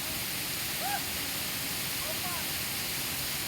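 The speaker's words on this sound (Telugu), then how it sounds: "ఆ కొండ హైట్ నుంచి పడుతుంది వాటర్" The Dharapalli waterfall spilling from a hilltop roars as a constant, broad rushing wash, with a few faint voices in the background.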